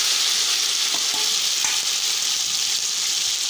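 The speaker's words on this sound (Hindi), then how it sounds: "अब हम इसमें आधा किलो टमाटर ऐड कर रहे हैं।" Half a kilo of tomatoes going into a pan of onions fried light brown for chana pulao, giving a steady, loud sizzle and crackle of frying throughout with a few faint stirring clicks and no talk.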